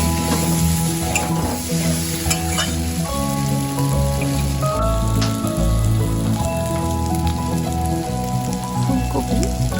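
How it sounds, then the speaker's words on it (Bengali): Cauliflower pieces being stirred and fried with spices in hot oil, a steady loud sizzle with scraping stirring strokes throughout, close up and without speech. "ফুলকপি কষে গেছে মশলার সাথে।"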